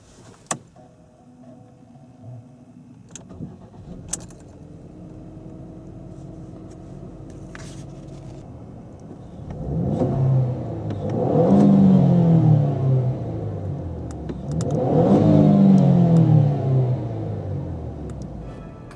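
A 2013 Ford Escape SE 4WD with the 2.0L EcoBoost four-cylinder starts after a few interior clicks, settles into a steady idle, then revs twice in rising and falling swells, close and clear.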